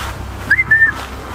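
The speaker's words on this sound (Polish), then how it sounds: "Nie wiem, czy na sarnę się gwizda." Someone whistles in a forest to call a deer, two brief rising notes then a longer held tone, close and fairly loud over a low background hum.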